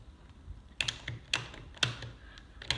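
Open-ended ratcheting wrench tightening a fitting in a tight space, giving a few sharp close metallic clicks spaced roughly half a second apart over a quiet background.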